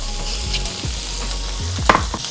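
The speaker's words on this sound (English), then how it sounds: "In the same pot that you cook the shrimp in, I'm gonna add 1 tablespoon of butter, and this is salted butter." A tablespoon of salted butter melts in a hot pot that shrimp was just cooked in, with a steady low sizzle, occasional crackles and a couple of light scraping stirs close by, no voices.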